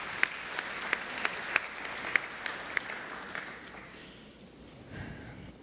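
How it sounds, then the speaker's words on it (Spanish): Audience applause at the close of a talk at an executive health-management conference in Peru, a moderate spread of clapping with a few sharper claps standing out, fading away toward the end. "Un aplauso, por favor."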